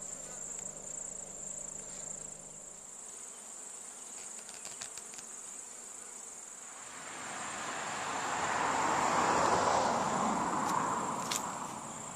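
Bees buzzing around stacked beehive stands in Tasmania, a steady insect drone that swells louder and nearer in the second half, with a faint high whine running throughout and no voices.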